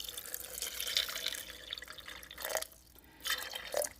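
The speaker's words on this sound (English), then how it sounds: "add some water just to cover it all." Water is poured into a homemade coin tumbler built from an HP printer and filled with blue gravel, trickling and splashing unevenly with short pauses and a few louder drips near the end.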